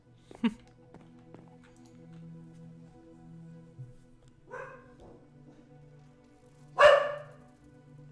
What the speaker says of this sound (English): I don't know what's got my dog's attention.